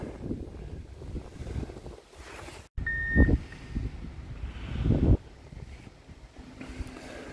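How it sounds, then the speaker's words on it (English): A truck with very wide tires spreads dirt in a city park in Cedar Falls, Iowa. Its engine rumbles steadily against wind noise on the microphone, with a brief reversing beep partway through. There is no talking. "Never seen a truck spread dirt like that."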